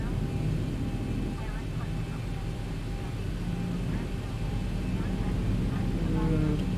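Boeing 737-800 engines in X-Plane 11 spooling up toward 40% thrust, a steady low roar and rising whine that holds at an even loudness across the whole stretch, with no talking.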